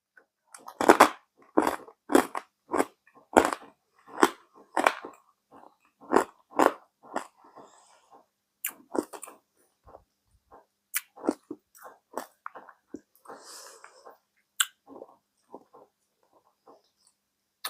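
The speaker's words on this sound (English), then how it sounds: "It's crunchy, but the more I keep it in my mouth, the softer it gets." Loud crunchy bites and chewing on peanut brittle, sharp crackling crunches in quick irregular bursts that gradually soften and spread apart.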